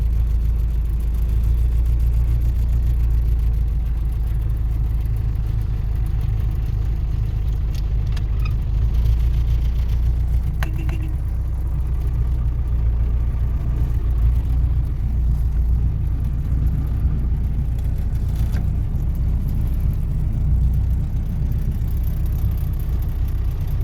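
A vehicle engine runs steadily while driving out to load sacks of soybeans, a constant low rumble with road and cabin noise throughout, close and loud with no talking.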